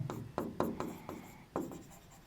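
Chalk or pen strokes writing out a math proof during an abstract algebra lecture, a series of short scratchy taps and strokes in uneven rhythm, close and fairly quiet with no talking.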